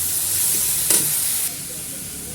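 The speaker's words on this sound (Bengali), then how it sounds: "এখানে ভেন্ডি আলু ভাজা বসি দিয়েছি" Okra and potatoes sizzle and hiss steadily in a hot pan, with a brief stir partway through.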